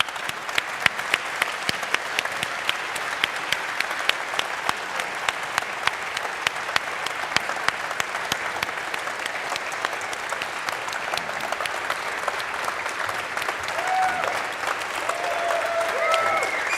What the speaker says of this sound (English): let's give them both a wonderful round of applause.